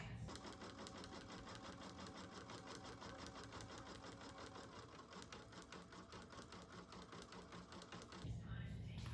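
An in-the-hoop embroidery machine stitches a satin stitch on a bear stuffie, a steady rapid mechanical chatter with a constant hum running close and unbroken, a brief shift in tone near the end.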